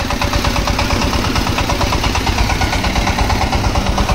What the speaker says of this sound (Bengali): সেলফের ব্যাটারি ডাউন আছে বলে হ্যান্ডেল দিয়ে স্টার্ট করা হলো